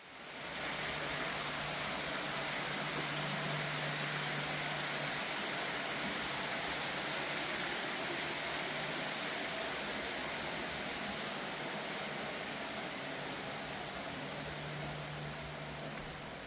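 A steady rushing indoor waterfall inside a large tropical-rainforest-style indoor attraction in Suwon, heard as continuous broadband water noise, even and moderately loud throughout with no talk.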